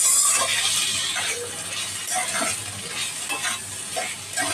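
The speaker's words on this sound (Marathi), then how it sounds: "आता सगळे मसाले मी असे मिक्स करून घेणार आहे" Spices stirred into a bitter gourd and potato stir-fry in a pan, a steady sizzle with repeated scraping strokes of a spoon, close and alone without talk.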